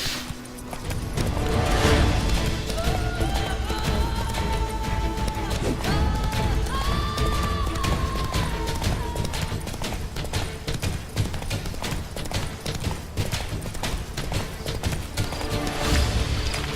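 Roach the horse galloping in The Witcher 3, rhythmic hoofbeats pounding steadily and loudly over a bed of ambient game music that runs the whole way.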